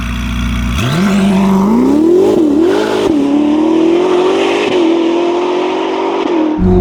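A 1109 hp Novitec-tuned Ferrari SF90 Spider with its roof off, accelerating hard: a loud, close engine note rising sharply through the revs, dipping briefly at gear changes and then holding a strong sustained roar.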